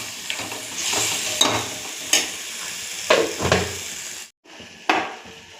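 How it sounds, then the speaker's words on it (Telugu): Tomatoes being stirred into a sizzling pan of dhaba-style egg masala curry, a utensil scraping and clanking against the pan in several distinct strokes over a steady frying hiss, close up with no talking. "టమాటా వేసుకొని కొంచెం కలుపుకోవాలి"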